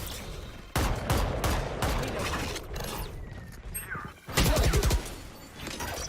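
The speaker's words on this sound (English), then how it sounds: "Flashing. Flashbang." A flashbang goes off in the tactical shooter Valorant amid loud gunfire bursts and match sounds, with a sharp bright burst near the end standing out over the steady game noise.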